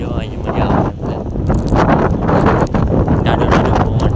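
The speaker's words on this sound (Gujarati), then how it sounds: "નાનો નાનો પવન આવે છે." Light wind blows steadily across the microphone at the seaside near the Madhavrai temple in Madhavpur during a fair, with continuous rumbling gusts throughout and faint background activity.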